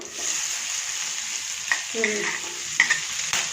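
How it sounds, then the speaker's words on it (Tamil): Onion, coconut and tomato sautéing in a pan, a soft steady sizzle broken by a few clinking, scraping spatula strokes. "தக்காளி இதை நல்லா வதக்கிக்கலாம்."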